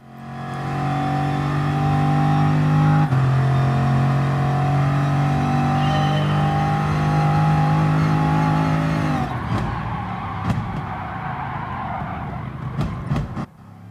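Race car engine in Gran Turismo Sport holding a loud, steady high-revving drone with a brief shift partway through, then cutting to quieter rumbling and a few sharp clicks near the end.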